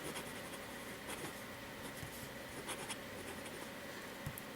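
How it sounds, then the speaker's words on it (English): Fountain pen nib scratching across paper as ink is laid down, a quiet steady scritch with small strokes and faint taps, close up and soft, with no talking. "This is actually a very smooth, nice writing pen."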